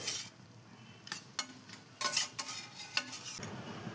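Red amaranth greens frying in a pan with fried lentil dumplings, stirred with a spatula: a few sharp scraping strokes and clinks over a faint, low sizzle, close and quiet, with no talking.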